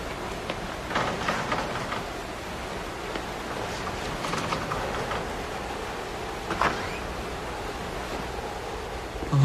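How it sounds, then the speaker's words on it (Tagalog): Dense, hissing rainfall pours down continuously, a broad steady roar with occasional louder spatters and no speech. "lakas talaga ng ulan."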